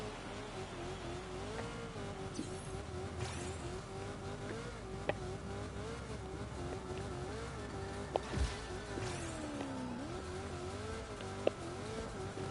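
A race car in the Rocket Racing video game drives with a steady engine drone that rises and falls as it revs, with occasional sharp clicks and brief squeals, no talk.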